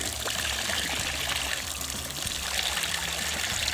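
Continuous rush of water spraying and splashing from a hose, steady and fairly close, with no talking.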